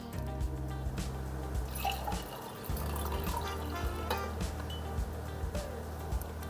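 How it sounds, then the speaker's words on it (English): Hot water poured from a carafe into a glass while brewing coffee, a steady close liquid trickle with small drips and splashes, continuous for several seconds with no talking. "then I put the hot water into the glass"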